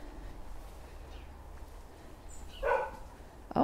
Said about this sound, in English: Oh, the neighbor's dog is out.